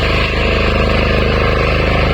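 A tractor engine chugs loud and close in a flooded rice paddy during transplanting, with a steady pulsing idle-like rhythm and no break.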